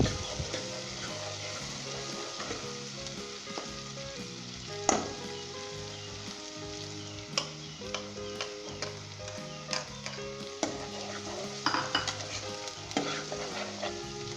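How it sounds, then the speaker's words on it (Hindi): Ground masala fries in a pan for shahi chholay and is stirred off and on, giving a quiet, steady sizzle broken by repeated scraping and clinking strokes over several seconds. No one speaks. "दोस्तों 1 मिनट के लिए हम इसे फ्राई करेंगे"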